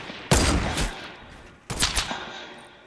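Gunfire in the Fortnite video game: two loud bursts of rapid shots about a second and a half apart, each tailing off with a brief echo, and no talking over them.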